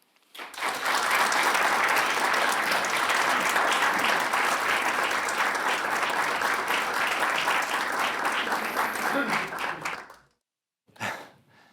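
An audience claps steadily and loudly for about ten seconds to welcome author Phil Klay at a literary conversation event, then the applause stops abruptly, followed by a brief rustle.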